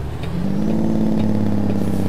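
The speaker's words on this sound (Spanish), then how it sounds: "Ahí está el freno de motor" A Kenworth T800 truck's engine brake rumbles with a steady, low, throbbing drone that shifts pitch partway through, sounding close and loud throughout.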